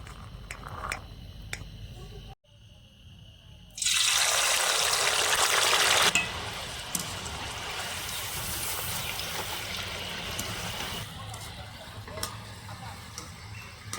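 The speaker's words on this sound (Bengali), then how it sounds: "আমি মটরগুলো ভেজে নিচ্ছি" Peas frying in hot oil in a pan, a steady close sizzle that bursts louder for a few seconds as a fresh batch goes in, then settles into a constant crackling hiss.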